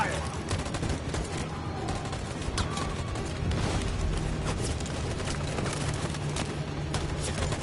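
Dense gunfire and bursts of automatic shooting in the video game Detroit: Become Human, continuous and chaotic with booms mixed in, voices shouting faintly underneath.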